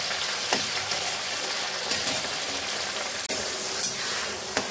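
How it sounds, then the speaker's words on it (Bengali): Broccoli frying in a pan while fried rice is made, a loud, steady crackling sizzle up close with a few sharp stirring knocks against the pan, no talking. "ব্রোকলি গুলোকে ভেজে নিচ্ছি"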